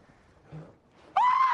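A basketball player lets out a sudden, loud, high-pitched scream during a canoe mishap, sustained after a quiet moment of faint rustling.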